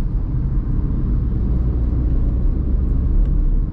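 A Tata Punch with a 1.2 litre petrol engine drives along, a steady low rumble of engine and road noise heard from inside the cabin, continuous and fairly loud with no talking.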